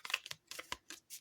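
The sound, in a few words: shuffling a deck of oracle cards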